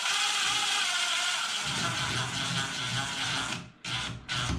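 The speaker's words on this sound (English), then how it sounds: "We take our screws and screw that in." Fixing screws are driven into a top-fixing toilet seat with a steady, close mechanical whirring and grinding that runs almost unbroken, briefly cutting out near the end before resuming.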